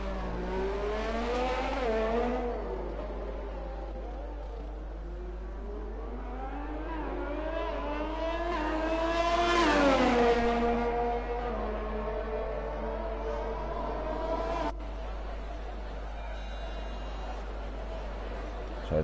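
Race cars in a racing game on their out lap at Abu Dhabi whine past with rising and falling engine pitch, one car swelling louder and closer midway, then fading into a steadier drone.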